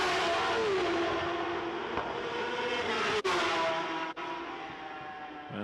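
A racing motorcycle engine drones and shifts pitch as it heads out onto the Macau Grand Prix street circuit during qualifying, a sustained fairly distant whine rising and falling under a steady ambient hum.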